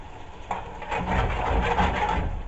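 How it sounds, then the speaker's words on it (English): A spoon scrapes thickened chicken Madras curry from the base and edges of a pan, giving a close, steady rasping and rubbing with no voices. "just keep scraping that back into the curry, because that's the good flavoursome stuff"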